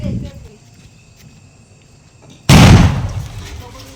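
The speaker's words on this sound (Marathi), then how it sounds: "बॉम्ब कसला उडतोय बघा." A Diwali firecracker bomb goes off with one loud, sudden boom followed by a fading rumble, preceded by quiet outdoor ambience and a voice talking briefly at the start.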